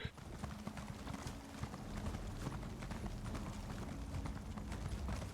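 Rhythmic horse hooves clip-clopping in The Elder Scrolls Online, steady and fairly loud over game ambience, with a brief spoken exclamation in the middle.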